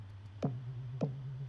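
Synth bass notes played an octave higher, two short plucked notes with a sharp attack on top of a steady low drone, about half a second apart, clear and without voices.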